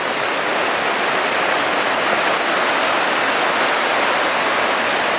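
Grasshopper Creek rushes continuously near where it feeds the Animas River, a steady broadband wash of water running over rocks, with no other sounds.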